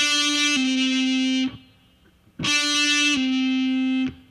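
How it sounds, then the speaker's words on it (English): Electric guitar pull-off done wrongly by just lifting the finger off, played twice with a pause between, each held note slipping to a lower tone before stopping, close and alone. "There I'm just lifting off my finger"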